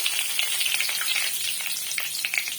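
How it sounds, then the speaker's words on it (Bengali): Whole cumin seeds and two dried red chillies sizzling in hot oil, a dense, bright crackling hiss that holds steady and close throughout with small pops, no voices. "এখন তেলের মধ্যে দেব গোটা জিরে ফোড়ন, শুকনো লঙ্কা দুটো"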